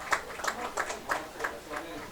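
A crowd at a high school football game claps steadily, around half a dozen rhythmic beats heard from a distance under a low background murmur.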